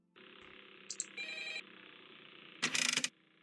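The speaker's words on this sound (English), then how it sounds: "now I have a flip sound for whenever I flip them up and down the camera" A sound effect in a FNaF fangame built in Clickteam Fusion 2.5 plays for the camera flip: a steady electronic tone with short higher blips, then a louder burst of bright noise about half a second long, with no talk.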